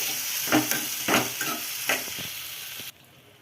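Tomatoes stirred into a sizzling pan, with several rhythmic scrapes and spoon strokes over a steady frying hiss, close and clear, ending abruptly.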